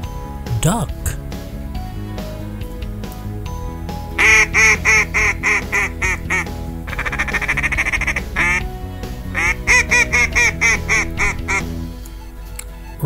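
Toy duck from a safari and zoo animal figure collection gives repeated electronic quacks in bursts over a bouncy music backing, while a voice speaks at times.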